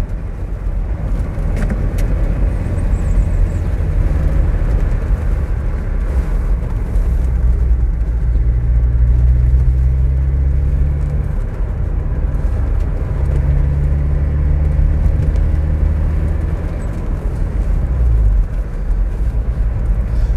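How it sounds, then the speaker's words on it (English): An MGF Trophy 160 roadster is driven hard through a corner on narrow Dartmoor roads, its engine a loud, steady close drone that rises and falls with the bend, with road and wind rumble underneath. "If you're looking at a Trophy 160, yeah, it's a properly hard riding car."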